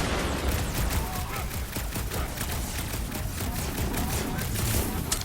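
Dense, continuous gunfire fills a fight in the Marvel's Guardians of the Galaxy video game, with rapid overlapping shots and blasts over the whole span under combat noise.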